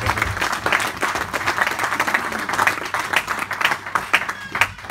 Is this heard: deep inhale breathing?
no